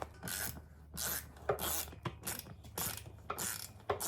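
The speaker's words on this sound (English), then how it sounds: "you're gonna undo the bolts under the seat here" Seat bolts are undone on a Honda Rebel 500 motorcycle with a ratchet, giving close, quiet bursts of quick clicking pawl strokes repeated in a steady rhythm.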